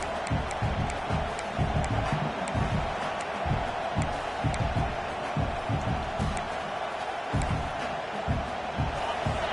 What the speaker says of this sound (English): Listen to this crowd just shaking the girders of this place, trying to help their defense